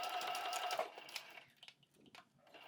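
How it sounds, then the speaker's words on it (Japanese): A sewing machine stitches a strip of fabric onto the body of a large pouch, giving a fast, close mechanical whirr that runs for about a second, then stops and is followed by quieter handling clicks. "これをね、裏側見ながら本体に縫い付けます"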